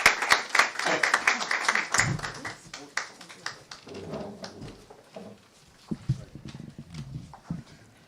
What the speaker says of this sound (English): Please give a round of applause as she comes.